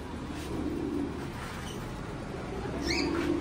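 Pet lovebirds and cockatiels make faint chirps and calls over a steady background hum, with a couple of brief, soft bird calls near the start and end.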